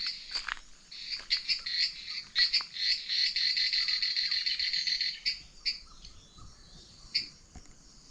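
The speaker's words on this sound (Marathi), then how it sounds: "आवाज ऐका बेडकांचा आणि रातकिड्यांचा आवाज" Frogs and crickets call together at dusk in the Konkan monsoon countryside, a dense, steady high chirping chorus that swells and pulses over nearly the whole stretch, with a few sharper calls standing out.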